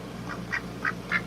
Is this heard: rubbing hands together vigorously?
no